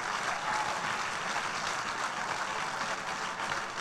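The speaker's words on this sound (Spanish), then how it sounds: "Por favor, denle un aplauso más fuerte a Jesús." A church congregation applauds for Jesus during a sermon, a continuous, even roar of many hands clapping together, heard at a moderate distance without any speech.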